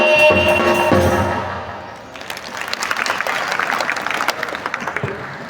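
At a school Guru Purnima celebration in Mehsana, the tail of a sung devotional bhajan fades out. An audience then breaks into sustained, moderately loud applause of many clapping hands filling the rest of the moment.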